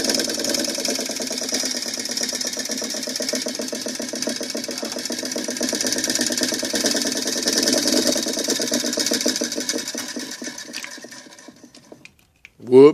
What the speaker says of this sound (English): simple little motor for basically demonstration of commutator segments and reverse polarity as it goes by